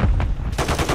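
Rapid automatic gunfire from enemies in a video game, a dense burst of shots repeating quickly and loudly for under a second.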